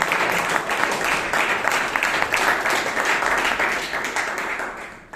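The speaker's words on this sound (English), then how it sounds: "Please give me a round of applause." Audience at a Bangalore Toastmasters club meeting applauding, a dense, steady wash of many hands clapping throughout, loud and sustained before tapering slightly at the end.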